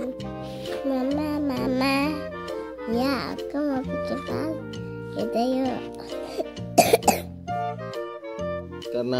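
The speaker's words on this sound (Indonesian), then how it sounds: "Karena adiknya batuk" A young child coughs a few quick times among their own babbling, whiny speech, all close and fairly loud.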